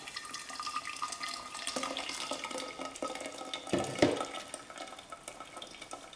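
A watermelon drink is poured through a strainer, a faint, continuous trickle and splash of liquid with a couple of soft knocks near the middle.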